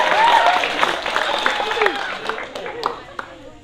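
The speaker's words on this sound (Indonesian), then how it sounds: "Beri tepuk tangan yang meriah." Audience applause after a school dance performance by SMK Maharati dancers, a dense crowd clapping that slowly fades, with voices and cheering mixed in throughout.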